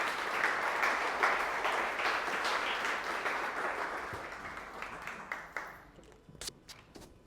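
Audience at a Future of Housing talk gives a round of applause for the speaker Heather, steady clapping that gradually thins into a few scattered claps and taps toward the end.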